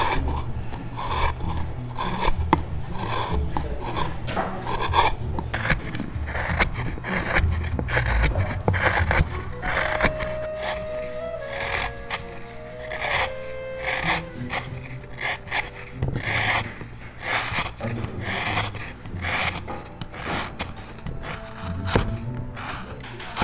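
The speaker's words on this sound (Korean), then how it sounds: "그래서 저도 이 나무 깎는 소리가 참 좋아요." A curved gouge carves out the hollow inside of a wooden piece, giving repeated rasping, scraping strokes in a steady irregular rhythm, close and fairly loud with no talk.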